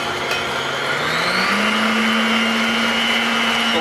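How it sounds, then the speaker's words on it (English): A Sunbeam Mixmaster electric mixer kneads homemade French bread dough, a steady close motor whine with a rising pitch that settles into a constant hum, running alone for several seconds. "this mixer itself is really not for doing the bread, though it's really for other things, Sunbeam Mixmaster"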